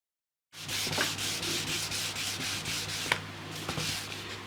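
Hand sanding of a dried finish coat with fine 800 grit sandpaper, a close, steady run of soft rhythmic rubbing strokes that starts after a short silence and continues alone with no talk.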